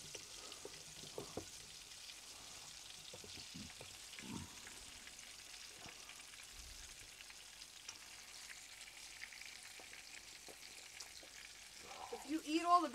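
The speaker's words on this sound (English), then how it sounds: "Just stirring the mix, you know, because you can't let it sit there or else it would just kind of like solidify." Apple fritter batter being stirred beside steady frying sizzle, with faint scattered scraping and soft clicks throughout, and a brief voice near the end.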